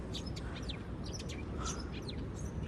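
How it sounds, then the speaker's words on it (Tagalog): Several birds chirping and tweeting outdoors, quick high calls repeating over a low steady background hum. "May mga huni ng ibon. Nasaan kaya ang mga ibon?"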